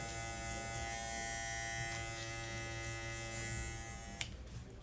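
Electric hair clippers buzz steadily up close on curly hair, a constant humming drone that shifts slightly as they move through hair, then cuts off near the end.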